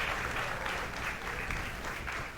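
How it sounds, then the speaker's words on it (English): An audience at a maths quiz final applauds the contestants with dense, steady clapping that fills the room and holds at an even level without a break. "Applause for all the contestants."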